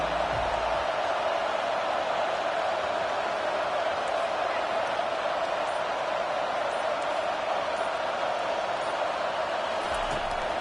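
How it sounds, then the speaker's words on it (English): Stadium crowd in the video game College Football 25 roars in a steady, dense wash of cheering that stays loud and constant throughout, with no distinct voices standing out. "Listen to this crowd just shaking the girders of this place trying to help their defense."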